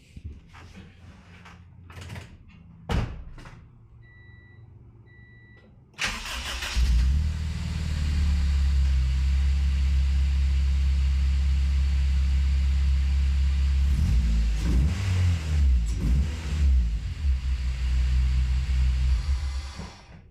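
A car engine with a newly installed hybrid racing radiator and its exhaust properly hooked up cranks and catches after a few quiet knocks and clicks, then settles into a loud, steady idle with rises of revving.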